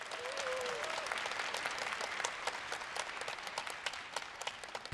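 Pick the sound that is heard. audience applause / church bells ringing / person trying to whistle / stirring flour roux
audience applause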